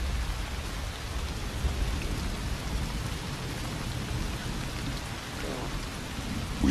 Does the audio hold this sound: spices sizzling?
no